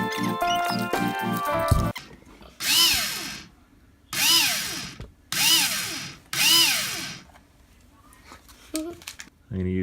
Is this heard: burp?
no